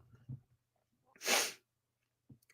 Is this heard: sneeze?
yes